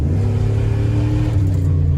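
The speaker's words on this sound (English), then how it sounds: "I can tell the sound from before and after, the sound of the exhaust note" A Ram pickup truck's exhaust drones with a deep, steady rumble as the engine revs while the tires spin, loud and close throughout.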